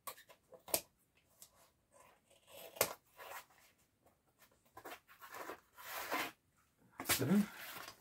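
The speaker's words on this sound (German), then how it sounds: "das, was übersteht, mit der Schere ein bisschen beischneiden" Scissors snip at dried material to trim off overhanging edges, making sparse, quiet cuts and rustles spread out over several seconds.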